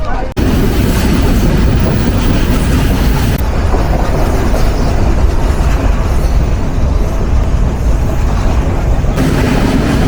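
Inside the Nilsagar Express running at over 70 km/h, a loud continuous rumble of wheels and carriage fills the space, with rattling clatter and shifts in tone as the train speeds along.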